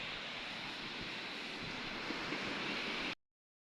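Surf rolls onto a beach in Tangier in a steady wash of broadband noise with wind buffeting the microphone, continuous and fairly distant, with no voices, before cutting off abruptly.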